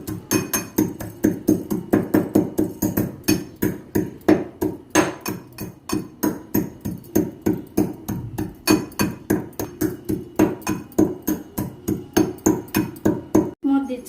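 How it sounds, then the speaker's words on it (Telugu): Black peppercorns pounded into coarse powder for an Andhra-style broiler chicken curry, a long run of loud, regular thudding strikes with a pestle, close and steady for about fourteen seconds. "కొంచెం మిరియాలు తీసుకున్నానండి చికెన్ కర్రీకి మెత్తగా దంచుకోవాలి"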